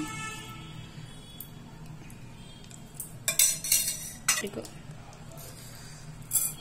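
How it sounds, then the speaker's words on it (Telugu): Low kitchen hum with a few sharp sizzling crackles and clinks from a clay pot as mustard seeds, cumin, urad dal, chana dal and fenugreek fry for tempering, arriving in short bursts near the end. "పప్పుకి పచ్చడికి పోపు వేస్తున్నాను."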